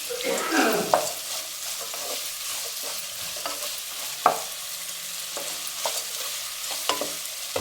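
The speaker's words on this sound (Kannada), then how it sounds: "ಹಾಗೆ ಟೊಮೆಟೊ ಕೂಡ ಇದ್ದೀವಿ ಸ್ವಲ್ಪ ಡೀಪಾಗೆ ಫ್ರೈ ಮಾಡ್ಕೊಳ್ಳೋಣ" Tomato deep-frying in a pan for kharabath gives a steady hiss, with regular sharp clicks of a stirring spoon against the pan.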